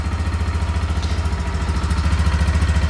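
A KPM 200 street motorcycle idles right after its first start, a steady close, loud low throb with even firing pulses and light mechanical clatter, rising slightly in level toward the end.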